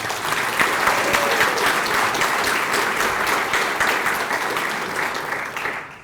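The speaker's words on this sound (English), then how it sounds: "Can we give them a round of applause?" Loud, dense applause from a large audience at the Maplewood Community Center, a sustained roar of clapping that holds steady throughout and drops off at the very end.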